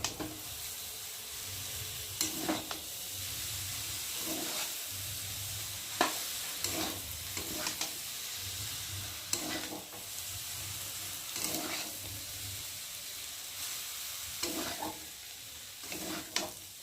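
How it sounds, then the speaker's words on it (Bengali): Chow mein is stirred in a hot pan, with a steady frying sizzle broken by repeated scraping strokes of the spatula every second or two, close and fairly quiet, no talking. "একটু ভালো করে নেড়ে নেব।"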